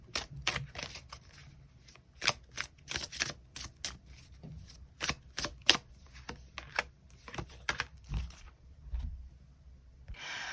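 Tarot cards are shuffled and drawn close up as a quick, irregular run of crisp riffling flicks and soft slaps, with short pauses between bursts in an otherwise quiet room.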